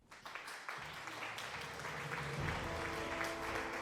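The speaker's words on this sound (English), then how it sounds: "Thank you for the applause." Applause from a crowd plays as a sound effect during a livestream of the Anno 1404 campaign, steady sustained clapping that swells slightly and continues for about four seconds without talk.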